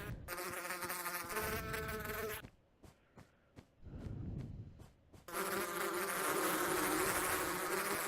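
Loud, continuous buzzing of bees in a video game with a harmonic drone, briefly dropping away to a few sharp clicks before the buzz swells back in, no talking.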